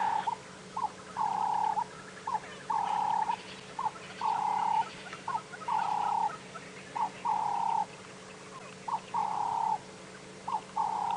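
Birds calling at sunrise on an African safari drive: a repeated hooting call in a steady rhythm, roughly every second or so, with fainter calls behind it and a low background hum.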